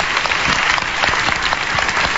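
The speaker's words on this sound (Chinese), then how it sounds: "掌声鼓励" A television talent show audience applauds steadily for about two seconds, a dense, even wash of clapping with no voices over it.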